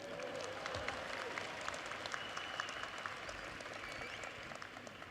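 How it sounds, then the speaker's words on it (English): Audience at a New York City College of Technology commencement ceremony applauds steadily, a faint, distant wash of many hands clapping in a large hall, sustained evenly throughout. "You can clap."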